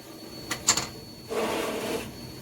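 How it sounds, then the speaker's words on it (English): A socket wrench breaks loose the transmission pan drain plug on a converted school bus, with a few sharp metallic ratchet clicks followed by a longer grinding turn, close and fairly loud, with no talk. "I'm going to put the proper size socket onto the plug. We'll go ahead and crack her loose"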